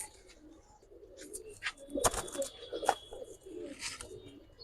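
Pigeons, high-flying Giribaz birds, coo softly and faintly in a quiet space, with a few brief calls and light rustling.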